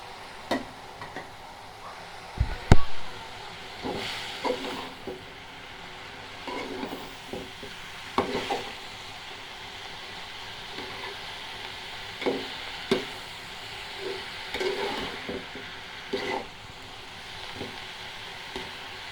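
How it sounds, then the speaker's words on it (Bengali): Chopped tomato goes into cabbage frying in a pan; a steady soft sizzle runs throughout, broken by scattered clinks and scrapes of a spoon stirring, fairly close and moderate in level, with no talk. "এখন টমেটো কুচিটা দিয়ে ফেলতেছি।"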